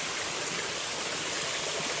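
Garden waterfall in a natural North Carolina setting among geraniums and sphagnum moss, a steady broadband rush of falling water filling the whole stretch without pause.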